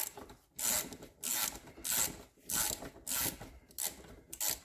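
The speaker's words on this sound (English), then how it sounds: "so I'm just going to use some pliers" Pliers gripping and working on the rear swing arm shock mount of a 400EX ATV, making rhythmic bursts of scraping, ratcheting metal clicks repeated about every half second, fairly close.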